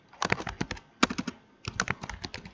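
Computer keyboard keys pressed in quick bursts for a shortcut, three clusters of crisp close clicks separated by short pauses, with no talk.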